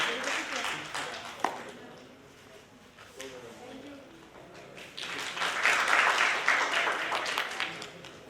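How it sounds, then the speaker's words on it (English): Applause from a conference audience at a social work conclave, uneven clapping that swells and fades, thinning in the middle and then building louder toward the end, with some talk mixed in. "Huge round of applause, everyone."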